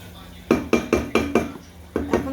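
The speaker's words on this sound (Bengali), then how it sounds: "এখন সুন্দর করে কষিয়ে নেব।" Spice paste for beef being fried and stirred in a pot, with six distinct scraping knocks of a utensil against the metal coming in an uneven rhythm over a low steady background, close and moderately loud.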